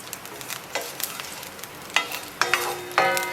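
Lemongrass, root and salam leaf frying in a pan, a steady close sizzle with scattered crackles and pops that grow sharper and more frequent toward the end, no talk.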